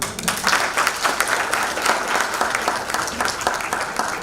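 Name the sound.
audience applause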